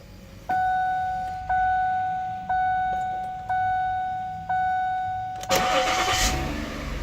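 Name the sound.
Ford Edge car engine starting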